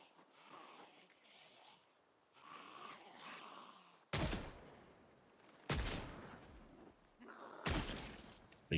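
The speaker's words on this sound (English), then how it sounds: "3 shots. I was expecting a little bit more from the Magnum." Magnum pistol shots in Project Zomboid: three loud, sharp reports spaced a second or two apart, each with a short ringing tail, after a stretch of quieter game ambience.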